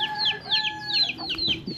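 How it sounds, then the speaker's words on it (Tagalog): Backyard chickens cluck in quick, close bursts, a rapid run of short, sharp calls with a steady tonal note running beneath them. "Yung manok kayo, yung manok guys,"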